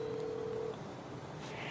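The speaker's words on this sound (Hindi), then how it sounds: "अगर मैं यहाँ पे क्लिक करूँ तो ये डायल भी होता है" A smartphone calls a loan app's helpline number: a steady electronic phone tone holds for under a second, then fades to a quiet line hiss.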